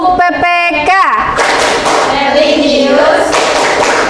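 Classroom of students begins the rhythmic PPK clapping chant, a quick run of sharp claps followed by voices chanting together, close and loud.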